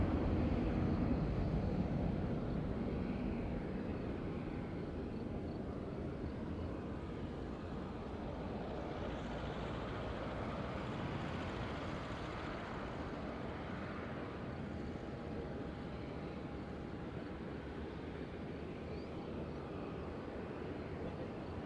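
A Wizz Air airliner comes in to land on runway 23 at Madeira airport, a broad, steady jet roar heard from a distance that slowly swells and fades over about twenty seconds.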